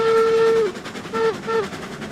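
A steam locomotive whistle in the Railroads Online video game blows one long blast followed by two shorter toots, loud over a steady background rumble.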